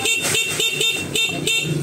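Stock car horn honking in a series of about six short, evenly spaced blasts, loud and close, without speech.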